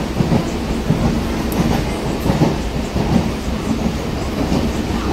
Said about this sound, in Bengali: ট্রেনে উঠলাম বগুড়া থেকে।